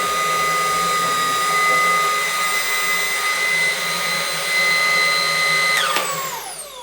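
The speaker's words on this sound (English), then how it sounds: "we snap on the beater attachment, and this thing is loud." A Milwaukee Fuel jobsite vacuum runs with its motorized beater attachment, a loud, steady high-pitched whine and roar close by that holds for several seconds, then drops in pitch near the end as the motor winds down.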